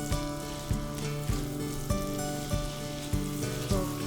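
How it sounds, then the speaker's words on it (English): Minced garlic and half a yellow onion sizzle steadily in a hot pan, a continuous frying crackle with periodic soft thumps and clinks from stirring, close and fairly loud, with no talking. "Now we'll add our garlic, minced garlic, together with our onion."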